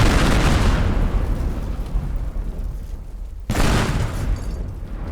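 Explosions tearing apart a map in the destruction game Teardown, a continuous roaring blast rumble that fades slightly, then a second sudden burst of booming debris near the end.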